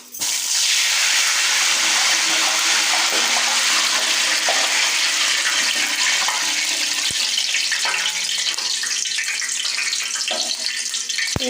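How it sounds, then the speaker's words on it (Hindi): Water splashed by wet hands into hot mustard oil in a pan sets off a loud, continuous hissing sizzle that gradually eases, with a couple of sharp pops. "आपने जो है इसके अंदर पानी के छींटे मार देने हैं।"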